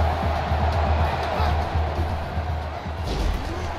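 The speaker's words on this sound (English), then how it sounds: "This crowd in full throat right now." A stadium crowd in the NCAA Football 13 video game roars steadily, a loud, continuous wash of cheering with no breaks.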